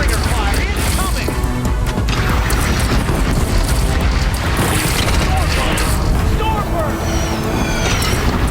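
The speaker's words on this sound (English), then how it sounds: "Deathbringer fire incoming!" Deathbringer gunfire and explosions in Horizon Zero Dawn on PS4 form a dense, continuous barrage of booms and crashes at steady high loudness, with scattered sharp whines and impacts layered throughout.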